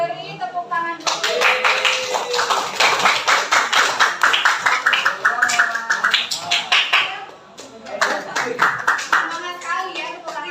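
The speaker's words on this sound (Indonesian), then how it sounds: "Sekarang beri tepuk tangan dulu." Students in a classroom clap together in sharp, rapid bursts, loud and close, with children's voices chattering over the clapping; after a brief lull near the end a second short round of clapping starts up.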